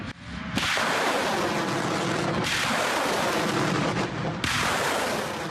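An Uragan multiple rocket launcher fires salvos outdoors: three loud, sustained roaring bursts of rocket launches follow one another, each a broad rushing blast with barely any pause between them.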